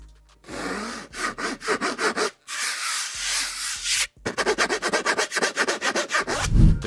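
A SledTred manual treadmill belt with a grippy, textured deck runs in a steady series of rough, scraping strokes, loud and close, with two brief pauses, and no talking.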